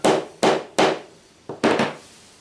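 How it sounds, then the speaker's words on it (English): Five sharp, hard hammer blows land at an uneven pace while pegging out a fox skin, close and loud, each ringing briefly before the next strike. "and then hammer it down"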